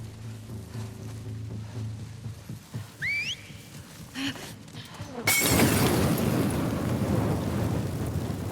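Stun bombs go off in a video game: a burst of crackling, shattering noise erupts suddenly after quieter game sounds and a couple of rising chirps, then a loud, rough wash of static-like rumble continues to the end.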